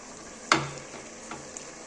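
Shrimp drop into a hot pan of pumpkin and hilsa fish, giving one sharp, close burst of sizzling that trails off into a softer fry, with a couple of faint stirring taps after.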